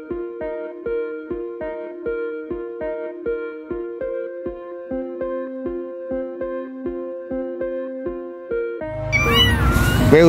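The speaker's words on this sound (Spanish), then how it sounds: "Miren lo que me tiraron, los gatitos." Kittens left in a box at a doorstep in Argentina let out a burst of high, overlapping meows near the end, following a long stretch of steady, rhythmic plucked music.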